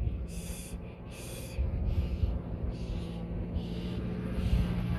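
A child imitates an owl's call, producing a series of breathy hooting bursts in a loose rhythm. The bursts are faint and sit over low background noise.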